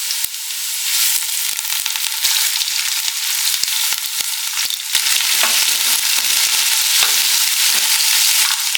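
Onions sizzle with mint in a pan for a country chicken curry, a continuous close hiss of frying with irregular spatula taps and scrapes stirring the mixture.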